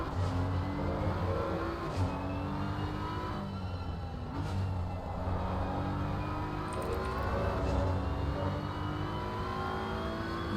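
Race car engine on a flying lap at Brands Hatch in a British GT multiclass round, a sustained droning engine note with shifting pitch as revs rise and fall, heard continuously with no talk.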